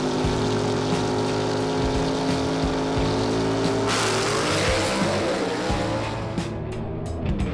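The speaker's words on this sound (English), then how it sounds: "This is going to be a great drag race right here, folks." Gasser drag race cars, including a 1967 Chevelle, roar with loud sustained engine drone that rises and shifts in pitch as they run, then fades slightly toward the end.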